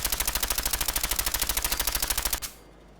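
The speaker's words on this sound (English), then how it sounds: "There's an awful recoil from that gun." Rapid automatic gunfire from a weapon in Fallout 4, a fast even burst of roughly twenty-five loud shots that stops abruptly and leaves near silence.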